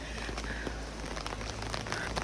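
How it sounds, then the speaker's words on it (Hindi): Heavy rain falls during a wedding day in Lahaul, a faint, steady patter of drops on surfaces with a low rumbling background and no speech. "बारिश हो रही है बहुत ज़्यादा"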